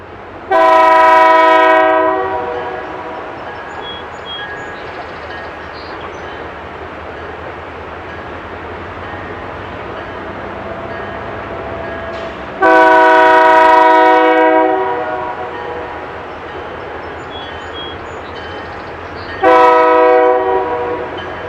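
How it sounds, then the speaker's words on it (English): BNSF 2098, an early-1970s GP38-2 diesel locomotive in Burlington Northern green, sounds three loud blasts of its multi-tone horn, one long opening call, another long one and a short final blast, over a steady rumbling train passing nearby. "BNSF 2098, a GP38-2 built in the early 1970s, still wearing the original Burlington Northern green paint."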